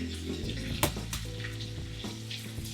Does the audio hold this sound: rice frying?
yes